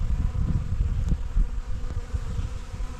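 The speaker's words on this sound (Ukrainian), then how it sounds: "Сусідські бджоли тут цілий сезон, ціле літо п'ють воду." A steady low buzzing of bees drinking water beside raspberry and strawberry beds, several insects droning close by without pause, with a faint outdoor background.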